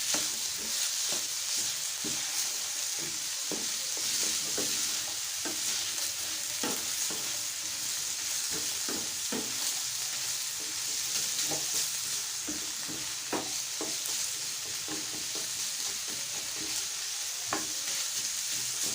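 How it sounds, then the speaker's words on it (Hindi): Chicken bread patties fry in a pan while a spoon stirs them, a constant close sizzle broken by frequent scraping and clinking strokes of the spoon against the pan, with no voices. "30 सेकंड जो है हम इसको इसी तरीके से फ्राई कर लेंगे। चम्मच आपने साथ साथ चलाते रहना।"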